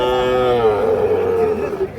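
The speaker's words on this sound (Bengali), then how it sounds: "শাহিওয়াল ষাঁড় বাছুর, মোটামুটি বয়স 7 থেকে 8 মাসের মতো হতে পারে।" A Sahiwal bull calf, about seven to eight months old, lets out one long, loud moo close by at a busy rural cattle market, holding the call for roughly two seconds.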